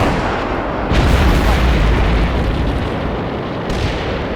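Heavy weapon fire in the war game Combat Mission Black Sea, a loud, dense, continuous rumble of booming blasts with no clear gaps and no talking.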